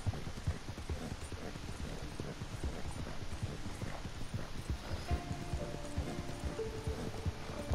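Horse hooves clip-clopping in Red Dead Redemption 2, a quiet, steady run of hoofbeats with faint game ambience and no talking.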